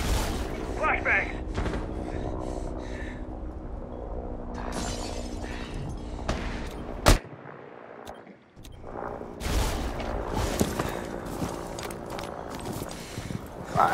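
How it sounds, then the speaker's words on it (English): A flashbang grenade detonates in Rainbow Six Siege with a single sharp, loud crack, followed by a brief muffled near-silence before gunfire and game noise return, amid scattered shots and players talking. "Flashbang!"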